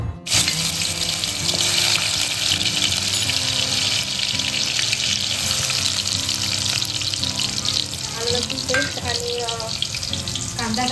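Spices sizzle loudly in hot oil for a fish curry tempering, a dense, steady crackling hiss that continues unbroken from start to finish.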